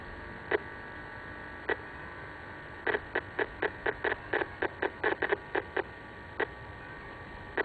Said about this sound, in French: Ce que nous entendons là, ce sont des micro-ondes pulsées qui sont émises en permanence, donc par un téléphone portable en veille.